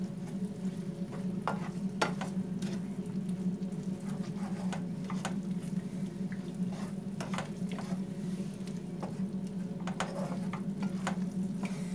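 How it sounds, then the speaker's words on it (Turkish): A pan of pizza topping mixture is stirred, giving a faint continuous frying sizzle with soft, regular scraping strokes from the utensil over a low steady hum, with no voices. "Şöyle bir karıştıracağım."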